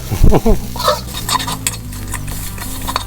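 Garlic, coriander root and pepper paste stir-fried in a pan with pork cracklings, a crackling sizzle punctuated by scraping spatula strokes and light metal clinks, close and busy over a few seconds.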